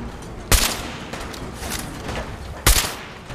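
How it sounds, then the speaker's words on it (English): Gunshots in the video game Fallout 4: two loud, sharp, close reports about two seconds apart, each with a short ringing tail over a steady background of game ambience. "Come on, one more shot, one more shot."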